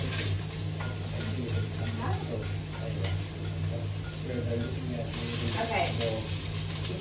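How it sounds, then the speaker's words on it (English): Onions sizzle in hot oil in a pan, a steady bright frying hiss with occasional stirring, close up, over a low constant background hum. "we're gonna add in the onions to the pan"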